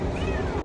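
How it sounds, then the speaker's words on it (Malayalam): A kitten trapped under a car gives one drawn-out, fairly loud meow close by. "നമ്മളെ വണ്ടിയിൽ കുറേ നേരമായിട്ട് പൂച്ചന്റെ സൗണ്ട്"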